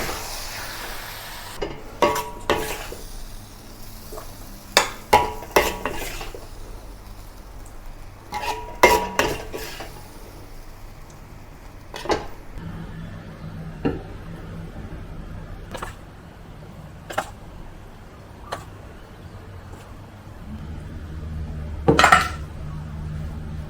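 Beef with black bean sauce and Shaoxing wine is stir-fried in a pan, with repeated sharp clinks and scrapes of a utensil against metal over a faint sizzle, loud knocks clustered early and sparser later.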